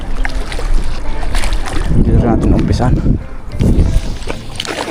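Strong wind buffeting over the water while fishing from a boat near a submerged tree, a loud rushing rumble with gusts, under someone talking.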